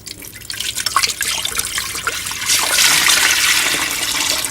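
Fresh water pours from a bucket into a small glass tank, a continuous splashing gush that grows louder and fuller partway through, close and alone.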